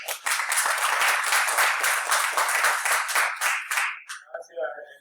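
Brief applause from a small audience at a talk on site effects in Managua, a few seconds of rhythmic clapping that fades out, followed by the start of a voice.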